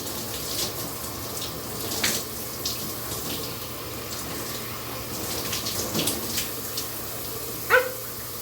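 Shower water running steadily while conditioner is rinsed out of hair, a soft continuous spray with occasional splashes and a brief squeak near the end.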